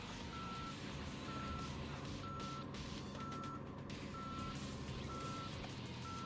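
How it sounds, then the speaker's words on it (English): A vehicle in the Yakuza Dead Souls video game backs up, its reversing alarm pulsing in steady, evenly spaced beeps, about six in a row, over a constant engine rumble. "And you hear the beeps when you're in reverse,"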